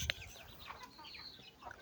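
Soft, scattered clucking from a nearby red junglefowl hen, a few short calls over a faint outdoor background, with one brief sharp peep near the start.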